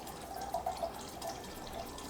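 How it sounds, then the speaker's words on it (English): Grain alcohol poured into water for an herbal tincture, a soft, steady trickle with faint bubbling drips, quiet and close. "now I'm going to pour my grain alcohol until I get to 600 milliliters."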